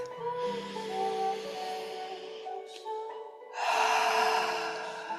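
A slow, deep breath during a guided meditation: soft sustained music tones first, then a long airy inhale-exhale rushes in clearly near the end.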